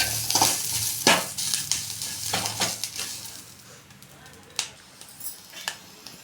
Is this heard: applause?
no